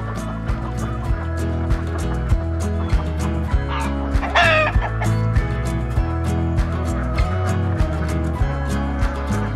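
Chickens cluck and murmur in a backyard pen shared with ducks, a steady close flock chatter with scattered louder clucks and one squawk standing out midway, no talking.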